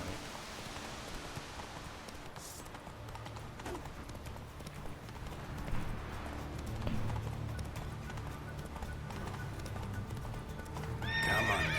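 A horse's hooves clip-clop steadily at a gallop in The Witcher 3 video game, with rain pattering around them and a whinny breaking through near the end.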